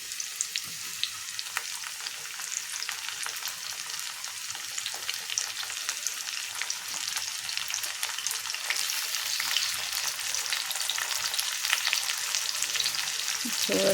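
Onion, finely chopped garlic and tomato frying in a pan, a steady bright sizzle with soft crackles that holds for the whole stretch at moderate loudness, with no voices.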